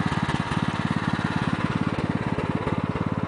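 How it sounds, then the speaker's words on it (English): A 1993 Sears lawn tractor engine runs steadily and close by, a loud, rapid, even chugging pulse with no pauses. "Perfect for a lawn tractor hill climb."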